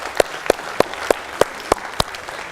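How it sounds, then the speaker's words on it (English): Scattered audience clapping at a real estate auction just after a property sells, a few distinct claps in a regular rhythm, fairly close and alone with no talk. "Round of applause, ladies and gentlemen."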